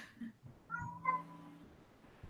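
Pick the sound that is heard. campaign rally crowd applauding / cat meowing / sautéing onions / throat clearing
cat meowing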